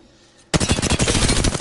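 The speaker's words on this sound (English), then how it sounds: "Oh, I am taking fire." Sudden burst of rapid automatic gunfire from a PS4 shooter game erupts after a quiet half-second, loud and sustained with dense repeated shots to the end.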